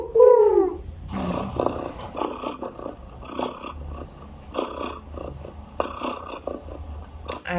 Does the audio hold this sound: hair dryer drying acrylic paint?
no